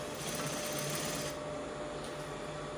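A sewing machine runs steadily, stitching the shoulder seams of a dress with an illusion neckline, a continuous close whir that eases slightly partway through, with no talking.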